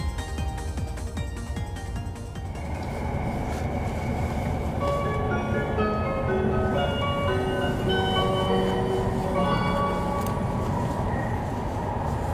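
A limited express train on the Hokuriku route glides into Ueno station after running underground from Nippori, with steady rolling rumble, brake squeal and tonal whines rising over the close, continuous clatter.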